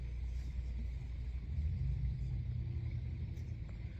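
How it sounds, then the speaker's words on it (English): Distant thunder after a rainstorm that is dying down, a low, steady rumble that rolls on faintly and continuously in the background with no talk. "Still got some thunder in the background."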